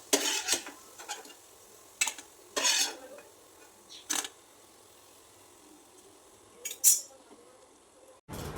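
Fried potato fritters lifted one by one from a pan with the gas turned off, giving scattered metal scrapes and clinks of a utensil against the pan, separated by quiet gaps, fairly close.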